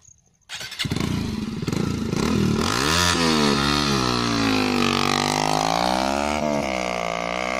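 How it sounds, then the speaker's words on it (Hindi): A modified Bajaj Pulsar NS160 motorcycle exhaust bursts into a loud, close rumble after a brief quiet start, revving up and down in rising and falling sweeps that hold for several seconds, with no talk. "इसका आप साउंड सुनेंगे, एग्जॉस्ट का साउंड सुनेंगे फ्रेंड्स हम लोग"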